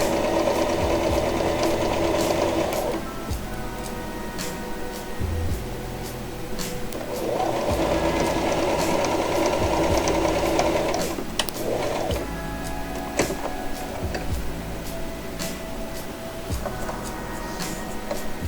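A sewing machine labours through four layers of thick corset-belt fabric in close, loud bursts of rapid mechanical whirring, with pauses and small clicks between runs.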